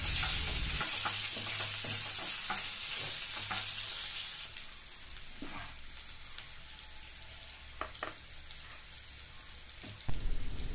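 Onions sizzling in oil in the same pan, a steady close frying hiss with a few stirring scrapes and a sharp clank near the end.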